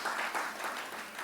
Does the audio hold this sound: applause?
yes